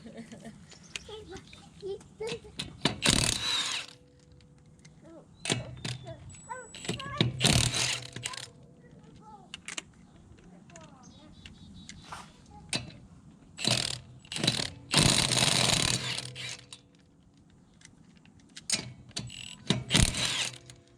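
A wrench works on tight lug nuts on a Toyota at the roadside, giving sharp ratcheting clicks and clanks in scattered bursts, with quiet movement between and no clear talk.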